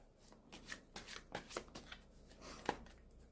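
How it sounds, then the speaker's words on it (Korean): Tarot cards shuffled and drawn from the deck, a soft run of papery riffles and flicks with a sharper snap near the end, fairly quiet and close, with no voices. "추가 카드 이어서 뽑아보도록 하겠습니다"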